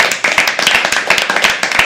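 Performers at a live poetry open mic clap for a couple of audience members: a scattered, fairly close round of hand claps, uneven and steady for a couple of seconds with no talking over it.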